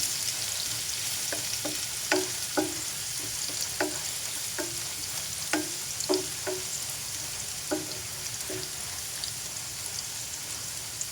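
Food frying in a pan on a home stove, a steady soft sizzle throughout with scattered pops and light scraping taps at irregular intervals, with no one speaking.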